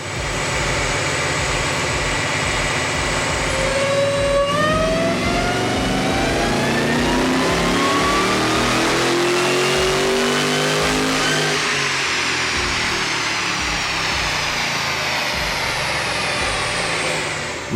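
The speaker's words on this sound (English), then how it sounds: "we then put the car on the dyno and load up our custom tune to suit the upgrades" Jeep Grand Cherokee Trackhawk with an HPF Stage 2 upgrade revving hard on a dyno, its pitch climbing through repeated gear pulls before easing back, loud and close with no voices.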